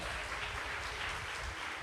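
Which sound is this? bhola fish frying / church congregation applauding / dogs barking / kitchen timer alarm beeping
church congregation applauding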